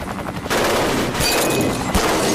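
Rapid gunfire from shooters inside a school library, with bursts of overlapping shots that sound near and loud, sharp reports over a dense, continuous din.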